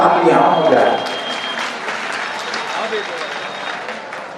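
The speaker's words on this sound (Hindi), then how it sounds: "ऐसी इनके लिए जोरदार तालियां हो जाए।" Enthusiastic applause from an audience at a 2022 talent award ceremony, loud dense clapping at first that eases slightly but continues throughout.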